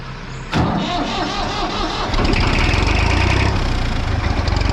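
A big JCB tractor engine cranks on a cold morning, catches with a sharp burst, then settles into a loud, steady diesel rumble with rhythmic low chugging close by.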